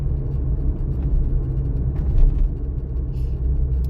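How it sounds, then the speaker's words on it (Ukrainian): A manual-gearbox car cruises in third gear at about 40 km/h, giving a steady low engine and road rumble heard from inside the cabin, with no talking. "Зараз їду на третій передач 40 км на годину."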